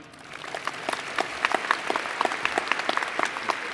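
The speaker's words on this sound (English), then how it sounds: "feel free to applaud them as I announce them" A graduation audience claps for the superintendent of schools being introduced at a high school ceremony, moderate scattered applause with distinct individual claps building and holding steady.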